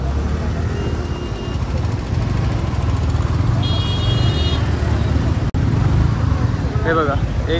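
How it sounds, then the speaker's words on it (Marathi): Heavy, slow road traffic in a ghat on the Lonavala route, a loud continuous rumble of engines with a brief horn toot, while someone talks over it. "हे बघा, एक तर ट्रॅफिक आहे, तुम्ही बघू शकता एवढी ट्रॅफिक आहे"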